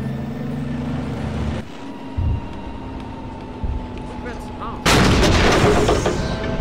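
A T-55 tank's cannon fires in the ArmA 3 military game, giving a heavy boom with a loud burst near the end over engine rumble, while a voice speaks through radio-like chatter.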